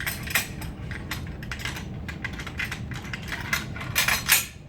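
Metallic clicks, rattles and clunks of an M240B machine gun being set up on its bipod, a close series of short sharp mechanical knocks that grow louder toward the end.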